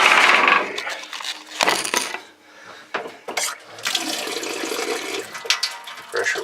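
Pressurized water from a galley faucet aboard a Fisher 30 sailboat, gushing in loud bursts that start and stop with clattering handling sounds, close and with no talk.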